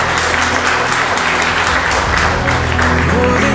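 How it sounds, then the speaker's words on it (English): Wedding guests applauding just after a couple's vows and kiss, steady crowd clapping blended with loud music throughout. "Let's give him a big round of applause."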